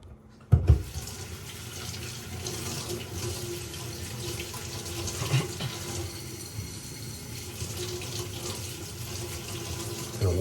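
Tap water gushes steadily into a sink as chunks of chicken of the woods and hen of the woods mushrooms are rinsed, starting abruptly and running close throughout with faint handling sounds and no speech.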